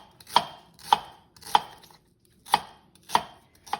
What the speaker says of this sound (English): So after chopping the onion